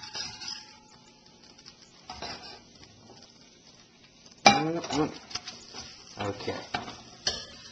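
Tuna quesadillas fry in a buttered pan on medium heat, with soft sizzling under loud clattering of a pan and utensils being handled; a voice speaks briefly.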